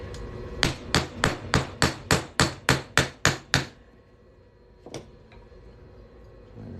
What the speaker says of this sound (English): we're going to hammer this on through here. This is a 1/2 inch punch